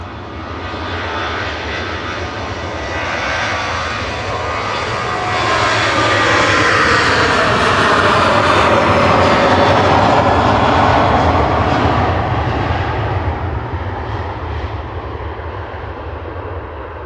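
A Ryanair airliner bound for Dublin roars past at Manchester Airport, its engine noise swelling to a loud peak midway and then fading slowly.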